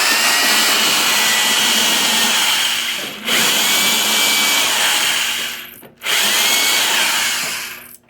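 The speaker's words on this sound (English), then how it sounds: "we're gonna grind our way around the hole to remove the excess metal" A die grinder with a grinding stone grinds metal around the hole of a stuck snow blower wheel, a loud, close, high whine in three long passes with brief drops in between.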